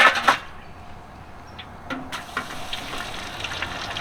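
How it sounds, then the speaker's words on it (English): Fresh-cut french fries in hot oil sizzle and hiss steadily, with a sharper crackling burst at the start and scattered small pops after. "Oh yeah, nice sizzle."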